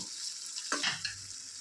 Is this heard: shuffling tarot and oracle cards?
no